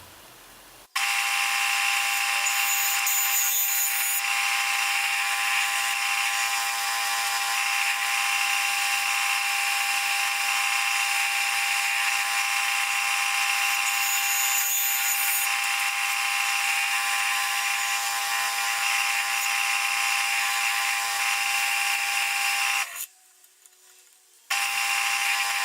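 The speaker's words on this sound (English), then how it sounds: "So for the top coat for this, I'm going to use a stick of carnauba wax." Carnauba wax stick pressed against an Idigbo wood bowl spinning on a lathe, giving a loud, steady, high-pitched squealing drone that runs almost the whole time and breaks off briefly near the end.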